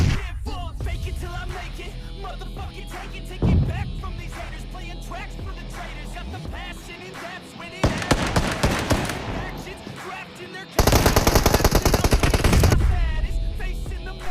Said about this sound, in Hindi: इसका दूसरा टीममेट वहाँ पीछे वाले हाउस से फायर देता है।